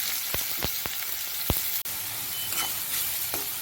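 Onions drop into hot oil in a kadhai and sizzle loudly and close, with a constant hiss and a few sharp crackles and stirring knocks over a few seconds.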